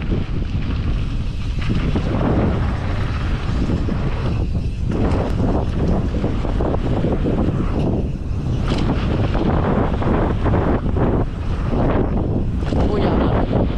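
Heavy wind buffets the microphone outdoors on a slope, a loud continuous rumbling roar with gusty surges throughout, steady for the whole stretch.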